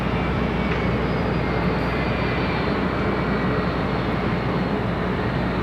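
A jet airliner at Los Angeles LAX airport gives off a steady, loud broadband engine roar that holds unchanged for the whole stretch, with no voices over it.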